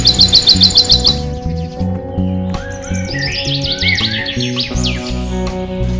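Small birds in a village setting, flushed by a cat, chirp in a quick bright run of tweets at the start and break into scattered calls later, over a steady low rumbling background.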